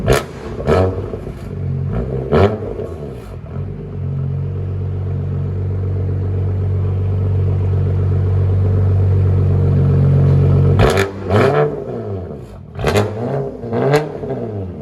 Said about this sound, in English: BMW M3. This is at idle, it's 85, 90.